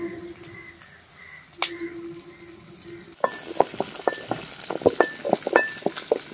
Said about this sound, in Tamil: அடுத்து வெங்காயம் வெள்ளப்பட போட்டுக்கும்